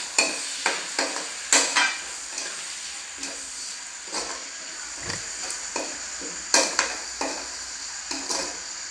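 Egg fried rice is stirred and fried in a pan, with a steady sizzle under repeated scraping and clinking of a utensil against the pan at an irregular rhythm, close and without speech.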